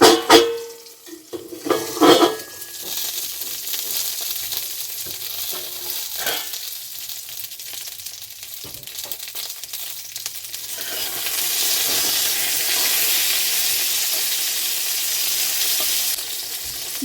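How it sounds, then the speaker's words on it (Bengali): Brinjal pieces fry in hot oil in a pan for a Bengali begun ilish dish, giving a steady sizzle with a few scrapes and clinks early on. The hiss grows brighter and more even toward the end, with no one speaking. "বেগুনগুলো লাল লাল করে ভাজা হয়ে গেছে"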